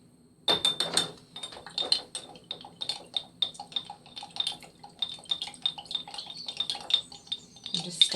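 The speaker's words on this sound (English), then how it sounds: "just stirring it in." A metal spoon stirs pigment into coffee in a glass, giving a quick, irregular run of bright clinks against the sides, close and clear over a quiet background.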